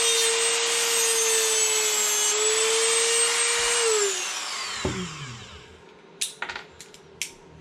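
A Dremel rotary tool cutting a small V notch for soldering during an RC car build, a loud, steady high whine that drops in pitch as the cut ends, followed by a few light clicks and taps.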